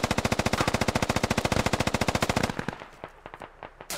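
Sustained rapid automatic machine-gun fire in a military video game set amid Russian forces and militias, a loud, dense burst of evenly spaced shots for over two seconds, then a few scattered fainter single shots trailing off.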